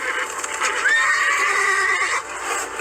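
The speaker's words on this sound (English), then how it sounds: "The men grabbed the reins of the Count's horses and quickly brought the carriage to a halt." Carriage horses give a loud, close whinny that rises and holds a wavering high pitch for about a second, with faint hoof clatter and restless movement around it as the carriage is pulled to a halt.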